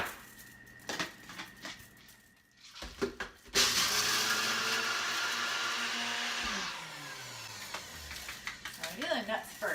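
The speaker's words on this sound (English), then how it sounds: "And I'll do some blending on this side." A kitchen blender grinds nuts for a pie filling in a loud, continuous whir lasting about three seconds. Quieter clinks and kitchen handling come before and after it.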